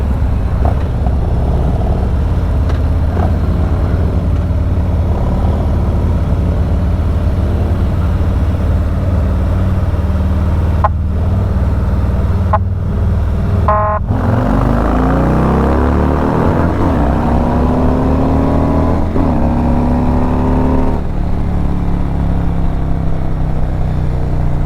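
A car fitted with a Stage II performance kit doing a second-gear roll-on, a loud steady engine drone that rises in pitch as it accelerates hard, with brief dropouts midway.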